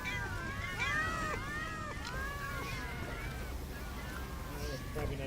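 A chorus of overlapping cat-like mews and cries from Pals in the game Palworld, rising and falling rapidly in a busy cluster over a low rumbling game backdrop.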